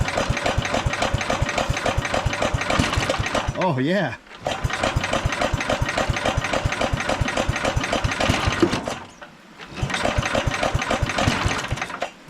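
A 1968 Wheel Horse Commando 8 garden tractor engine chugs with a fast, rough rhythm on choke, dropping out briefly twice before revving back up; a voice speaks briefly over it.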